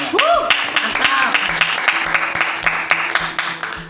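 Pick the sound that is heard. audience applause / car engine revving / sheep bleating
audience applause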